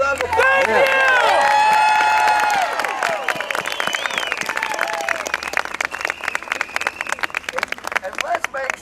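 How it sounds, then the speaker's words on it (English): A rally crowd breaks into applause, beginning with loud cheering voices and shouts, then settling into dense, steady clapping that continues to the end. "let's give a round of applause"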